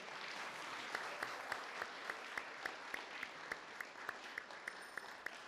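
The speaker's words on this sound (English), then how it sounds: "everybody now can give them a big hand of applause" Audience applauding second place winners at a city council meeting, a steady wash of clapping with sharper individual claps standing out, moderately loud and continuous with no talk.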